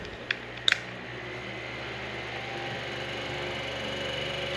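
A Mainstays 9 inch fan runs on its lowest mode, producing a faint, steady, soft hum after a couple of sharp clicks near the start.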